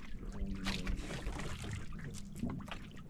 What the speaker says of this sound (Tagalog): may bangka na naman naglapit oh